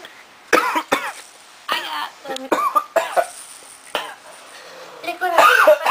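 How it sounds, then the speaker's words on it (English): Repeated harsh coughs come in a rapid series of bursts, close and loud, with short pauses between them. "Because I'm having a coughing fit."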